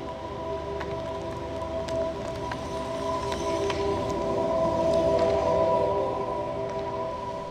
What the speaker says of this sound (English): this does have that crazy electric car sound because you can't hear it and it is required